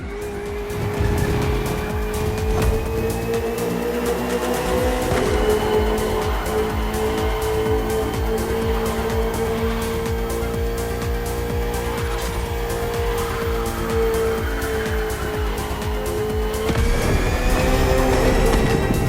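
Racing cars in The Crew Motorfest, a KTM RC16 against a Ferrari 488 GT3 on a circuit, with loud continuous engine roar rising and shifting through gears and tires squealing, heard alone without talk.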